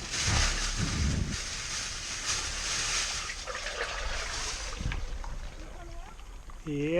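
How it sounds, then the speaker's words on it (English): Water poured into a pipe during dam overflow repairs, giving a steady hissing trickle and splash with a brief gurgle near the end; people talk faintly in the background. "Alright, I'm starting to pour it."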